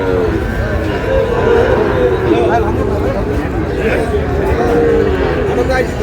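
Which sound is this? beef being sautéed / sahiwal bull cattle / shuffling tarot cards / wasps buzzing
sahiwal bull cattle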